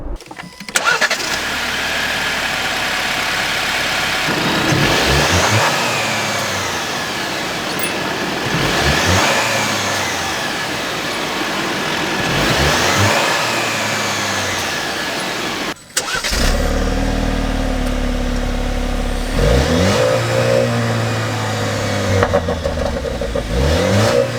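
A Jeep Wrangler Rubicon's 2.0L direct-injection turbo petrol engine revs up in repeated surges, rising and falling in pitch, loud and close, with a brief cut partway before the revving continues.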